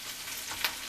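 Chopped potatoes and onions frying in a pan, a brief steady broadband sizzle close up with one small crackle near the end, no talking.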